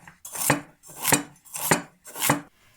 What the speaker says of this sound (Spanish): Troceamos la cebolla chiquitina, la zanahoria a rodajitas finas